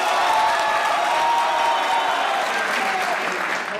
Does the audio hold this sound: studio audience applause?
yes